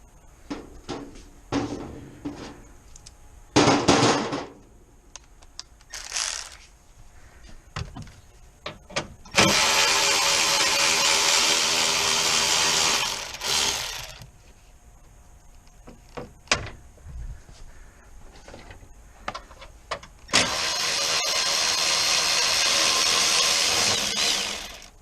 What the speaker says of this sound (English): next we're going to take out the mounting bolts for the condenser, which is a 10 right here